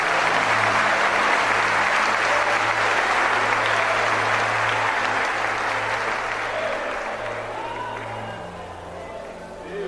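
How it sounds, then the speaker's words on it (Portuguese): A church congregation at a missionary congress gives a loud round of applause that fills the room, dense and steady before slowly thinning toward the end, with faint voices underneath. "dando a Cristo uma linda salva de palmas"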